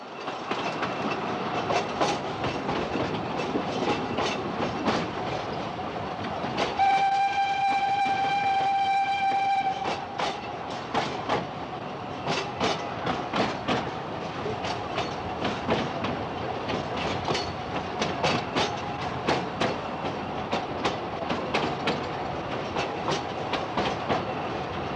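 A 1949 Bucharest-built steam locomotive hauling a train along the rails, steady rumbling with a regular clickety-clack of wheels over rail joints and a sustained whistle blast a few seconds in, no voices.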